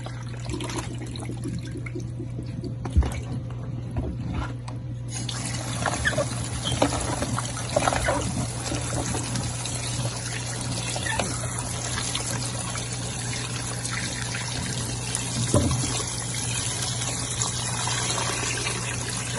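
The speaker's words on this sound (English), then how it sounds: "Remember to wash it very clean, because it has been in the water for 5 days." Fermented banku dough, soaked five days, being washed in water, with steady trickling and sloshing from a sink or tap and scattered splashes and small knocks close by, with no speech.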